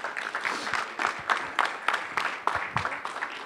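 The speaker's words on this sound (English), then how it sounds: "let's give him a round of applause" An audience applauds at a tech summit, a steady patter of clapping that carries on throughout.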